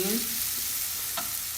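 Food frying and being stirred in a pan, a dense, steady close sizzle with a brief scrape of a spoon near the end, lasting under two seconds.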